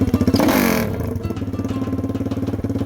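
A Lifan KP Mini 300 motorcycle engine with a custom exhaust revs up sharply, then settles into a fast, steady idle chug, loud and close.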